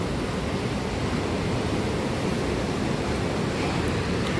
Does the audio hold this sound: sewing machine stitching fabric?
no